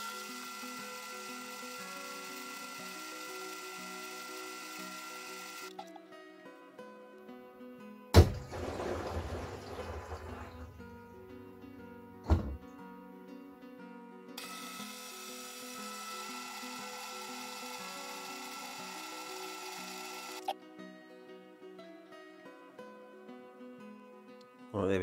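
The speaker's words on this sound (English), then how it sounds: "That will now run the pump and go through a whole series of cleaning functions." A Bosch condenser dryer's pump runs through its cleaning cycle. It gives a steady mechanical hum with tonal whine, broken by brief gaps and occasional clunks. The hum is close and continuous throughout.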